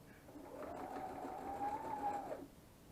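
Home sewing machine stitching a fabric face mask, a short motor whir with a rising then falling pitch lasting about two seconds, fairly quiet and close, with no talking.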